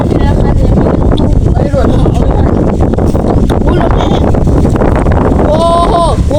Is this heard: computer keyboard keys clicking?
no